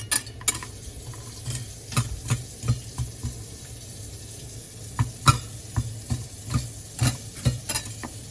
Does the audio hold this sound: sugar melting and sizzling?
yes